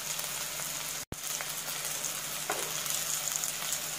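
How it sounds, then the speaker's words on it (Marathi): Onion and turmeric fry in a pan over a medium gas flame, a steady close sizzle with faint stirring clicks, briefly cut out for an instant near the start. "कांदा चांगला भाजून घ्यायचा आहे, गॅस आहे तो मिडियमवर ठेवायचा आहे"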